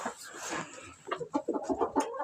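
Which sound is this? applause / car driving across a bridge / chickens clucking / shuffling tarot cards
chickens clucking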